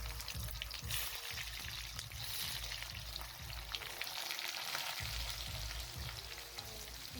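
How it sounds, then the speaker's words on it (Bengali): Onions fry in hot oil with whole cumin seeds, giving a steady, crackling sizzle with occasional stirring scrapes. It is fairly quiet and close, with no voices. "আর হচ্ছে আমি আস্তে আস্তে পেঁয়াজগুলো দিয়ে দিচ্ছি"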